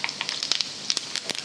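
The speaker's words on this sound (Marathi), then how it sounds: "तेल तापलेलं आहे। आता हे जिरे आणि मोहरी वांग घालते" Cumin and mustard seeds hitting hot oil while cooking a Maharashtrian masala brinjal dish, giving a quiet, steady sizzle with scattered sharp crackles and pops throughout.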